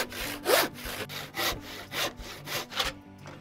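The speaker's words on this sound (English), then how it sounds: "now I can lift the saw up and saw throughout the length of the wood" A hand saw cuts through wood held in a vise, giving about seven steady rasping strokes in an even rhythm, close and clear, with no talk before it goes quiet at the end.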